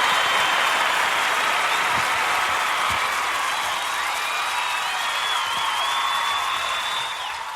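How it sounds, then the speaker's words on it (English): A round of applause from a studio audience on a talk show, broad and steady, with a high whistle-like tone sliding above it and a few distinct claps standing out, fading slightly near the end. "We'll do a round of applause."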